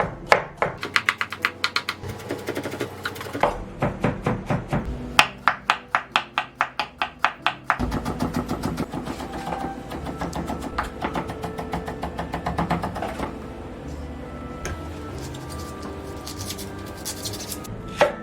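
Rapid, rhythmic knife strikes on a cutting board mince garlic for kkakdugi, settling into a fast continuous patter, close and fairly loud, with no talking.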